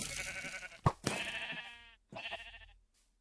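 A sheep in a video game bleats in a few short, wavering cries, close and clear, separated by brief pauses with a sharp thump between calls.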